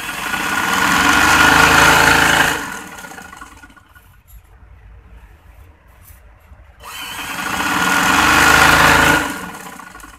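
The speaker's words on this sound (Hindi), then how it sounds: "अब हम इसको इस तरीके से सिलाई लगाएंगे।" A sewing machine runs in two loud, steady bursts as it stitches elastic onto a lehenga, with a quiet pause between them. It whirs close by and no one speaks.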